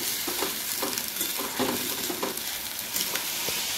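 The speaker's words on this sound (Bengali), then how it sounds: "পেঁয়াজটাকে 3-4 মিনিটের জন্য ভালো করে নেড়ে চেড়ে নেব, যতক্ষণ না পেঁয়াজের কাঁচা গন্ধটা চলে যাচ্ছে।" Onions stirred and fried in a pan for a Bengali egg curry give a dense, continuous sizzle broken by regular scraping strokes of a spatula, close up, with no voices.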